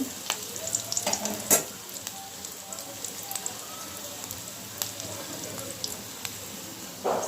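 Beans and potatoes frying with chicken in a pan, a steady soft sizzle with occasional stirring scrapes and clinks, some faint voices in the background.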